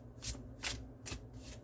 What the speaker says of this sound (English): And of course it shuffles easy like this